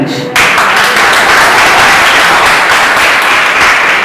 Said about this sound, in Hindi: कंजूसी मत करो, ताली बजाने